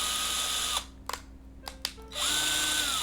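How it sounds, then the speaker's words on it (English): A power drill whirs steadily while drilling out a plastic dimple on a PXN controller shell, stopping briefly with a few clicks before spinning up again. "drilled that dimple out, removed the shard of plastic so that the corresponding screw would go through"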